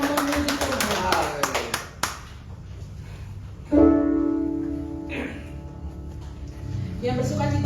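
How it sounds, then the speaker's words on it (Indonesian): A church congregation at a Sunday Independence Day worship service claps in a quick run of sharp hand claps, then the claps stop and singing or speaking voices take over. The claps return faintly near the end. "Kita mau tepuk tangan untuk bersemangat."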